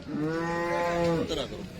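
A cow that has calved four times lets out a single long, loud moo close by, lasting over a second before trailing off.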